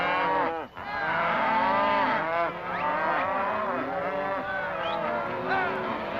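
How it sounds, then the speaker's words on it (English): Cattle low loudly and almost without pause during a roundup on a ranch, a dense chorus of overlapping moos and bellows from a nearby herd that rise and fall for several seconds. "an instant of fright that can spook a rounded herd and send it bolting for freedom"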